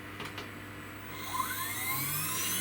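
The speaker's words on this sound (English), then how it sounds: "Let's start the router head up," A CNC router spindle on a 36 by 36 inch machine spins up midway, a rising whine climbing in pitch over steady shop hum and faint early clicks, fairly loud and alone.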